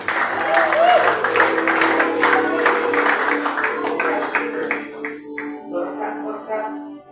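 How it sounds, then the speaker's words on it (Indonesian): A congregation applauds in a church service, steady clapping filling the room before fading away toward the end, with a voice speaking over it. "Di dalam nama Yesus, mari kasih tepuk tangan."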